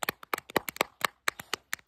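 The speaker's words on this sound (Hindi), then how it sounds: "ताली बजा।" Children clapping their hands outdoors in an Uttarakhand village, a quick run of about a dozen sharp, close claps in an uneven, slightly rushed rhythm.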